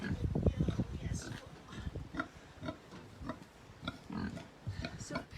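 Pigs grunt and oink repeatedly in a field at a farm wedding and event venue, in close, rough bursts, loudest at the start and then intermittent.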